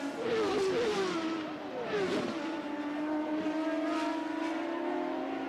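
Indy cars in 1996 CART racing at Road America scream past through the trees one after another, engine notes rising and falling with Doppler sweeps, loud and close with no talk.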